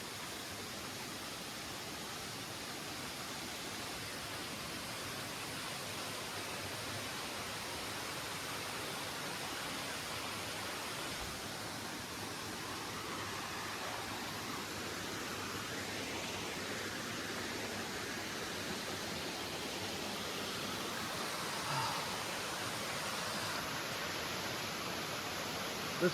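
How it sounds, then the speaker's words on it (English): Steady broadband rush of a waterfall pouring into a creek in the wild, a constant, even wash of falling water heard alone with no talk. "Thumbs up for the waterfall."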